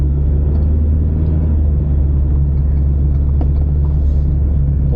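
A car drives through the gorge into the Alice Springs town centre, a loud, steady road rumble and engine drone filling the whole stretch with no voices.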